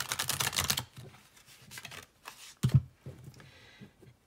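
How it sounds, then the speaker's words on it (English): A tarot card deck is riffled in a casino shuffle, producing a dense burst of rapid card flutter, then softer shuffling and taps of the cards being squared, close and fairly loud. "One more casino shuffle here."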